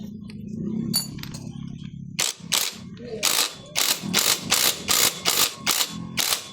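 Bolts on a Suzuki Raider 125 clutch being tightened with a ratchet, giving a close run of crisp, evenly spaced metallic clicks after a short stretch of duller handling and mechanical noise, with no talking.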